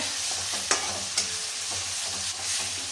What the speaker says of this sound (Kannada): ಟೊಮೊಟೊ ಚೆನ್ನಾಗಿ ಈ ಎಣ್ಣೆನಲ್ಲೇ ಬೇಯಬೇಕು.